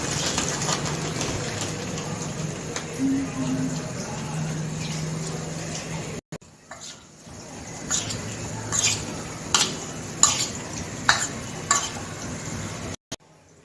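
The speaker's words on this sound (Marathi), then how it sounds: "त्यात चवीप्रमाणे लाल तिखट, मीठ आणि 2 चमचे कॉर्नफ्लॉवर टाकून नीट मिक्स करून घेऊया" Boiled potatoes being mixed in a bowl with red chili powder, salt and cornflour. Busy stirring and scraping up close gives way to quieter, scattered taps and clinks.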